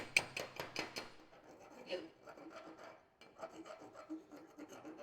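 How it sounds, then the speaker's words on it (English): Flux slag being chipped and brushed off a stick weld made with a Thunder 255 MTS welder, heard as a run of quick, close scraping and tapping strokes at low level, with no talk. "Grab my safety glasses real quick before we chip this flux."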